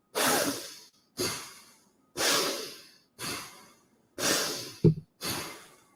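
Six forceful breaths, each a strong rushing inhale or exhale followed by a short pause, steady rhythm, close and loud with no talking.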